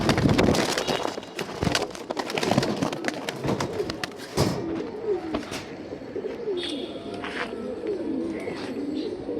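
Pigeons at a pigeon market coo in soft repeated rolling calls, fairly close, with sharp clatters and knocks early on and quieter background bustle as the cooing continues.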